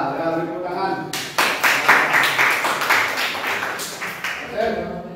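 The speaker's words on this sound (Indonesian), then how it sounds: "Ya, tepuk tangan." Short burst of classroom applause as a teacher's class claps together, a few seconds of dense hand claps rising suddenly, with a voice heard briefly before and after.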